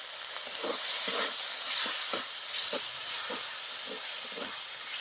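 Cumin and coriander paste sizzles steadily in hot oil with turmeric and sugar added for a mountain-region dish, a continuous frying hiss broken by regular scraping taps of a stirring spoon, close and fairly loud.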